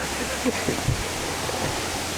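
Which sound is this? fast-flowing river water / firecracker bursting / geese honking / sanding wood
fast-flowing river water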